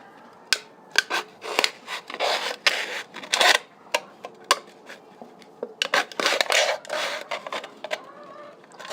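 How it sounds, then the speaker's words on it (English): A knife cutting a letter shape out of a metal can, heard as close, irregular bursts of scraping and rasping metal with short pauses between strokes. "Then grab a knife. And then just cut out that A."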